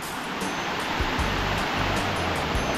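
Water rushing steadily along a mountain hiking trail on Mt. Batolusong, a loud constant wash with faint knocks and footfalls underneath.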